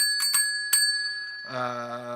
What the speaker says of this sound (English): I'm gonna have to ring this bell a lot, I'm guessing.